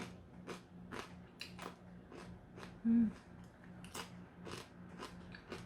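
Quiet, crisp crunching bites of a dry snack layered with oats, rice and glutinous rice, about a dozen sharp chews in an irregular rhythm, close up, with a brief hum from the speaker.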